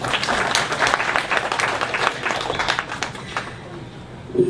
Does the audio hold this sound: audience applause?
yes